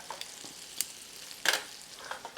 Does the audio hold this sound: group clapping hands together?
no